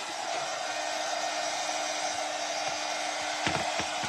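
A heat tool blows steadily at close range while warming foil on a bottle, a constant loud whooshing hum with a few faint clicks near the end.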